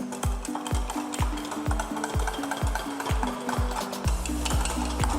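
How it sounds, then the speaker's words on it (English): A whisk beats egg yolk, mustard, garlic and lemon juice for saffron aioli in a bowl, with quick, regular strokes tapping against the bowl in an even rhythm, close and steady. "This mixture will be whisked first till everything is properly combined."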